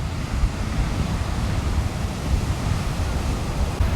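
Big, intense ocean waves breaking on a beach at sunrise or sunset, a loud continuous roar of surf with wind noise on the microphone.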